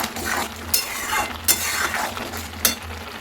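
Carrot halwa is stirred in a pan, the spoon scraping and clinking against the metal at a few irregular strokes over a soft sizzle, close and alone.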